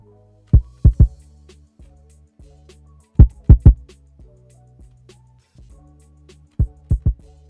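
Kick drum sounds from a McSequencer step sequencer in Reaper, heard as close, punchy thumps in tight groups of three that repeat across the pattern, with softer low hits in between and no talking.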